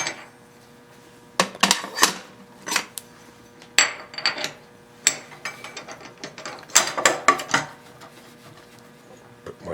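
Metal clicks and ratcheting clatters of a 1/2-inch collet being fitted back into a milling machine spindle, a run of close, sharp mechanical bursts with brief pauses, no speech.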